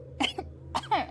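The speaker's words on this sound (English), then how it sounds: "It's like I tried to sneeze and cough at the same time." A single person lets out a combined sneeze and cough in two close bursts, the first quick and throaty, the second louder and more explosive, fairly near over a low steady background hum.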